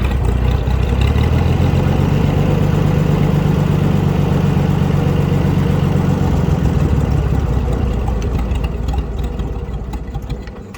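Flathead engine of a Massey Harris 102 tractor idling low and steady, loud and close, a continuous deep chugging that holds evenly throughout and eases off slightly at the end.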